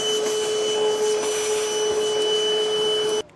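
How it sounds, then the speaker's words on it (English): A shop vacuum runs steadily for a few seconds, sucking up metal drilling debris from hitch installation on a 2019 Ram 2500 truck bed, loud and close with a constant whine, then cutting off abruptly at the end. "And now I'm just going to vacuum up all the mess."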